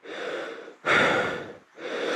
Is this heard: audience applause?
no